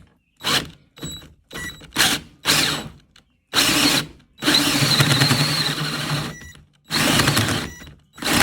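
Power drill with a hole saw cutting a 2 inch hole in a copper still: repeated short bursts of grinding and whirring with clunks between them, then a longer sustained cutting run near the end, loud and close.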